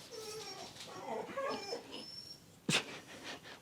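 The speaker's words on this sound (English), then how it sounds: "My dogs, they come running in here." Pet dogs whimpering and whining indoors in a room with closed blinds, soft high whines rising and falling over a few seconds, with a sharp sound near the end.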